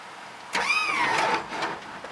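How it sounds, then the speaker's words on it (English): A lowrider's hydraulic pump motor spins up with a sudden onset, whining with rising and falling tones for about a second while it fills the accumulators, then settles lower; close and fairly clear, with no talking. "you hear the motor spin a good bit while it fills the accumulators"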